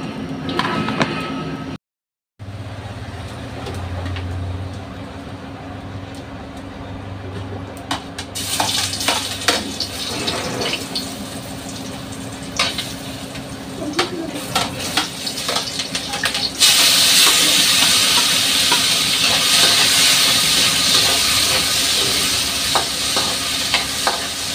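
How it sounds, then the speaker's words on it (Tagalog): Garlic, onion and tomato sizzle in hot oil in a pan for menudo, a steady crackling fry that grows louder and brighter midway, with occasional stirring clatter and a brief dropout near the start. "mainit na nga yung kawali natin at yung mantika din. At ilalagay na natin tong bawang and sibuyas at nagad tayo ng kamatis."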